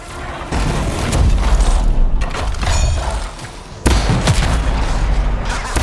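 Gunfire in the video game Anthem bursts out in heavy, booming volleys, with dense rapid shots and thuds filling most of the stretch, a brief dip in the middle before another loud salvo.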